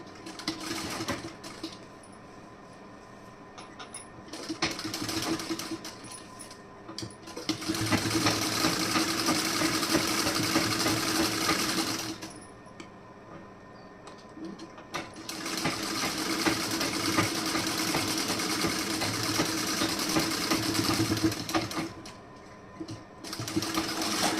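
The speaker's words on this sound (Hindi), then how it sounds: "अब एक सिलाई यहाँ पे भी एक्स्ट्रा लगा दे रही हूँ" A sewing machine stitching fabric runs in long whirring bursts, with a short start, two sustained runs of several seconds and brief quiet pauses between them, close and steady.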